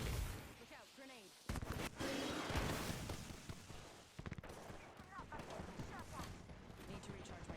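Rapid gunfire bursts from Apex Legends gameplay, shotgun and automatic weapon fire crackling loudly and repeatedly through the clip, with a short quiet gap near the start and game voice lines mixed in.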